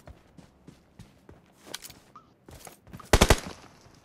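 Gunfire aimed toward the people, heard as scattered faint cracks and footstep-like taps followed by a loud, close burst of several rapid shots near the end.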